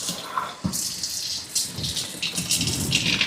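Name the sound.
water from sink tap in second spray mode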